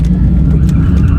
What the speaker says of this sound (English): I've never drifted an electric car before, nor have I ever tried to drift an electric car